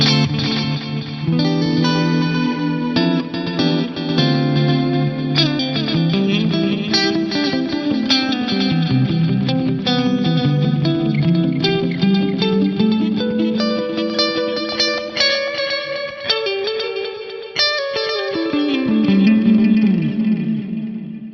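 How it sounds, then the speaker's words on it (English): Clean electric guitar through a stereo delay plays a flowing line of notes, each one trailing into spacious repeating echoes that blur together, steady and fairly loud with no voices. "There's just a gorgeous sounding stereo delay with a clean sound."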